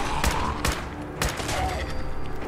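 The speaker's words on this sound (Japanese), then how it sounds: "このタレットはやっぱ撃ってくる。" Automated turret firing in Fallout 4 at a National Guard training yard, a few sharp bursts of shots at about a quarter, two-thirds and one and a quarter seconds, fairly near, over a steady background hum.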